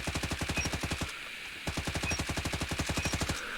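The Wrench Rig gun fires in a video game in two rapid, evenly spaced full-auto bursts, with a brief pause between them, each shot sharp and punchy at close range.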